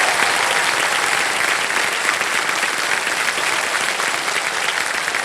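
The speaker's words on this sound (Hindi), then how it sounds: "जोरदार तालियां बज जाएं के लिए।" Loud, sustained applause from a quiz show studio audience, a thick even wash of clapping that stays strong from start to finish.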